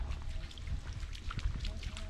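Footsteps wading through the shallow Fairy Stream near Mui Ne, Vietnam: continuous soft sloshing and trickling water with low thuds from steps, under a nearby person talking.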